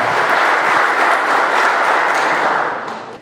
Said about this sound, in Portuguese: uma salva de palmas para a nossa palestrante que topou e acredita no nosso vale